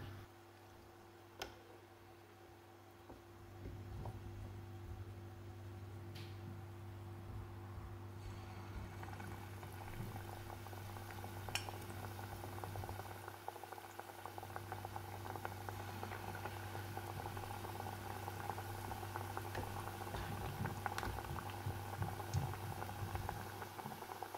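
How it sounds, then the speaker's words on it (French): Banana fritters frying in hot oil for an Indonesian-style recipe, a steady bubbling crackle that rises after a quieter start and continues close by with scattered small pops. "Maintenant, on va commencer de faire frire des bananes."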